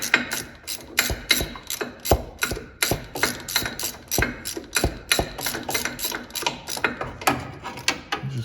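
Rapid clicking of a ratchet loosening bolts on the torque ball of a 1958 Buick Limited, a steady run of close, crisp pawl ticks in quick rhythm with no talking.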